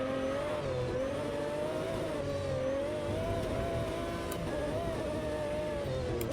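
Lamborghini engine in the Automobilista 2 sim racing game revving hard and continuously, a steady high-pitched wail that rises and dips slightly with throttle, loud and alone throughout.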